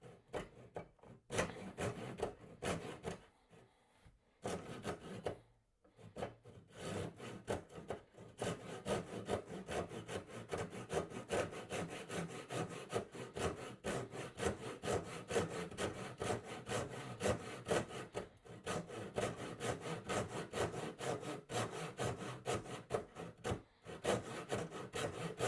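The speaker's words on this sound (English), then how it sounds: "back to sawing" Steady back-and-forth hand sawing through the wooden headstock of a P-Bass kit guitar, close and continuous with a few brief pauses between stroke runs.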